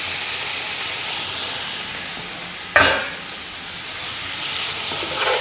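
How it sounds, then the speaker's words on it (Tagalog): Pasta noodles dropped into a sizzling pan for a dried-fish pasta dish, a steady hiss of frying suddenly broken by a sharp burst of crackling that then settles back to a softer sizzle. "lagyan na natin yung pasta noodles"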